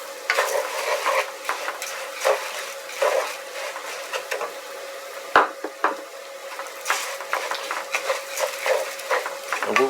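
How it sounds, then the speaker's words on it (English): Rice and orzo toasting in a hot pan for a pilaf, with a steady sizzle and repeated scraping strokes of a spoon against the pan, close and fairly loud, with no talking. "we're going to toast the rice in the orzo until you start to see a change in color"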